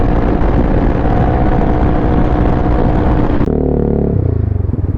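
A motorcycle engine roars loudly and close throughout, with a dense, steady rumble that drops abruptly to a lower, smoother throb near the end.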